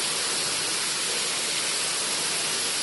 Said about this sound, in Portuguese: Um dos corredores da unidade mais parece uma cachoeira.